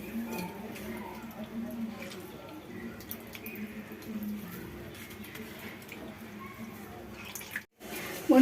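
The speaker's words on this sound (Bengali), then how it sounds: "এইভাবে আপনারা জলগুলো নিগড়ে নেবেন" Soaked soybean chunks are squeezed by hand, with soft squishes and quiet drips of cold water falling back into a bowl in a low, close, uneven patter.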